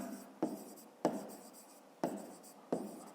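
Pen writing out a math solution on paper, four separate short scratchy strokes at roughly even intervals, each a sharp onset trailing off, close and quiet with no voices.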